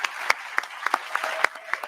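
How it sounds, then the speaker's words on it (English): Scattered applause from a seated audience at a women's awards gala dinner, a thin spread of individual claps with distinct sharp slaps standing out irregularly, fairly close and without speech. "that applause is deafening"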